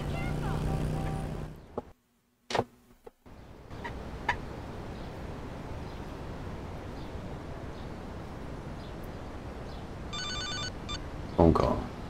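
A telephone ringing in the video game GTA Liberty City Stories: a short burst of electronic ring tones late in the clip, over continuous game background noise.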